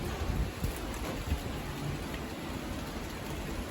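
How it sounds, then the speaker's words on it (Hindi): Light rain falls outdoors as a steady, dense patter of drops, a continuous even hiss with small scattered taps, and no voices. "हल्की हल्की बारिश हो रही"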